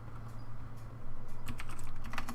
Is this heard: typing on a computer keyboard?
yes